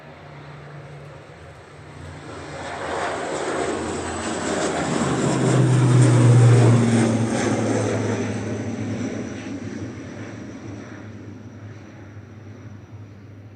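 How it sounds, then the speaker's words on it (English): An Aer Lingus ATR 72-600 turboprop operated by Emerald Airlines, bound for Dublin, passes by with a rising then fading propeller drone and engine hum, peaking loud midway and tapering off, with no talking. "That's Aer Lingus going to Dublin there, EIHNA, ATR 72600"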